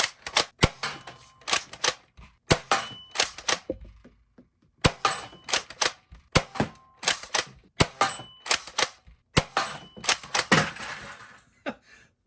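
A Nerf Rival Pathfinder blaster fires foam rounds at a target indoors: sharp, clacking shots in uneven clusters with short pauses between strings, close and fairly loud.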